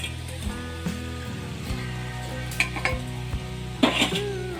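Rice tossed and stirred in a pan for egg rice, with soft scraping and clinking of a spatula against the metal and a light sizzle, close and moderate in level with a few sharper knocks.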